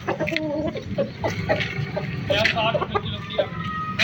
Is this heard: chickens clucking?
yes